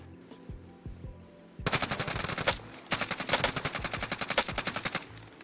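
Rapid automatic gunfire rings out in the video game Warzone, preceded by a few sparse single shots, then two long, dense bursts of fast rhythmic shots, loud and close, with no talk.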